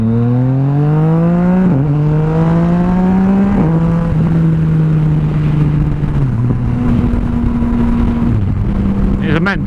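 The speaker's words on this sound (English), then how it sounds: "I'll show you what this kind of acceleration is like." A 2017 Yamaha MT-09 motorcycle with its stock exhaust accelerates hard through several gears, the engine note climbing sharply and dropping at each shift, loud and close throughout.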